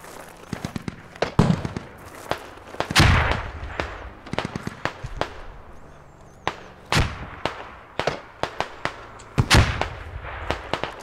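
Mortar and artillery fire in the military shooter Squad booms again and again, with sharp cracks and heavy thumps scattered at irregular intervals, some close and loud, others more distant, with no talking.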